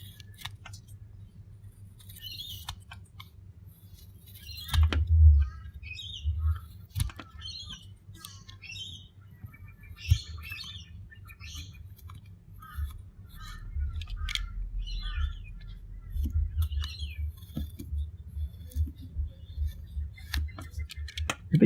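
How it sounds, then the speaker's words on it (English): A knife trims away waste wood from a handmade crankbait lure: faint, scattered scraping and shaving cuts in short irregular strokes, quiet and close, with occasional low bumps of handling and no talking. "So now I'll get to work with a knife,"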